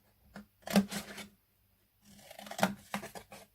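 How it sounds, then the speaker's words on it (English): Scissors cutting a sheet of card into a square for a gift bag, two quick bursts of crisp close snipping separated by a short pause, with no voice. "And then cut up this square"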